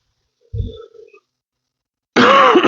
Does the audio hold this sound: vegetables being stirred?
no